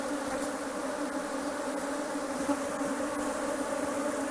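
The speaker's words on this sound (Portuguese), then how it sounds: "Olha a quantidade de abelha no meu irmão aí," A honeybee (Apis) swarm buzzes steadily and loudly, a dense continuous hum of many bees close up that runs the whole time without pause.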